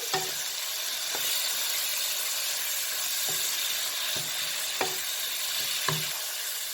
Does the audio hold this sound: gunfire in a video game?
no